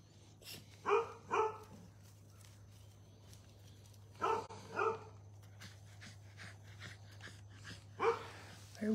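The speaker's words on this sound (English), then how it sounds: "She loves that barking at those dogs." A dog barks at other dogs in short, paired bursts that repeat about three times, fairly faint over a steady low hum, with no talking between the barks.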